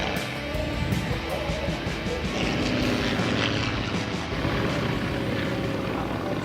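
Replica World War I biplane, a Sopwith 1½ Strutter, flying at an airshow, a steady loud propeller-engine drone that holds throughout with a slight rise and fall as it passes.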